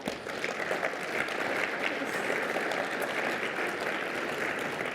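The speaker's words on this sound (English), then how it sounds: "We can clap for that." A conference audience at a tech session breaks into steady applause, a dense even patter of many hands clapping that swells within the first half second and holds at a moderate level throughout.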